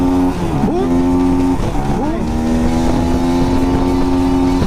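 A Bajaj Pulsar NS 200 BS3 motorcycle with its stock exhaust and a burnt clutch plate revs hard close by, its engine rising and falling through several sharp bursts before holding a loud, steady drone.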